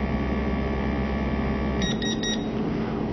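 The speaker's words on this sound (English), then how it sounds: "When the time is over, you can hear the beep" A 3D vacuum sublimation heat press hum cuts off, then its timer sounds three short electronic beeps in quick succession, clear and close.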